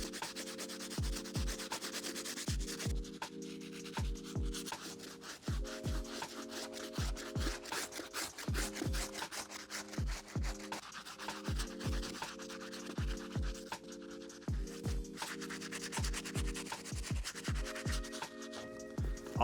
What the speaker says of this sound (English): let's get it in with our stiff bristle brush